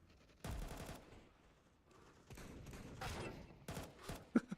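Gunfire in a video game sounds as several short bursts of shots at low volume, spread irregularly among quiet background game noise.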